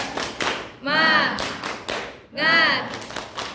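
Schoolchildren in a classroom clap in rhythm during a spirited group cheer, with sharp bursts of claps between shouted chant phrases.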